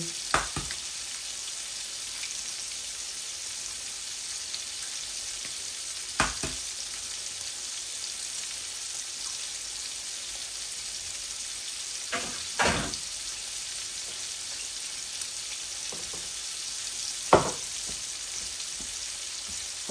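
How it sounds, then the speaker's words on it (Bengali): Egg frying in a pan, a steady close sizzle running throughout with a few brief clicks and scrapes standing out now and then. "এই ডিম ভাজিটা আমি শর্টকাট করে বসিয়ে দিচ্ছি"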